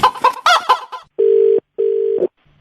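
A rooster crow sound effect, played as a gag during a Hindi prank call, comes in two loud, sustained crows back to back right after a stretch of talking.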